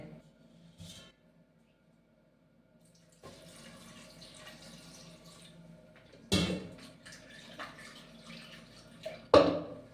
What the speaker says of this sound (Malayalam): ഇനിയിപ്പോൾ നമ്മൾ കുറച്ച് വെള്ളം ഒഴിച്ചിട്ട് അടുപ്പത്ത് വെക്കാം